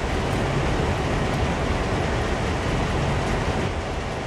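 A train coasts along in the Train Sim World video game, giving a steady, continuous rumbling roll of wheels on track, fairly loud and even, with no voices.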